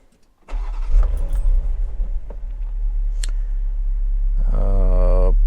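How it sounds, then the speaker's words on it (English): An Ineos Grenadier engine cranks and catches after a brief silence, then runs loudly up close, rising into a higher rev near the end. "Start the car."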